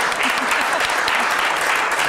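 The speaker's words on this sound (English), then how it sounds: "Let's give a round of applause." A room full of people clapping steadily, a dense even patter of applause that continues throughout without a break.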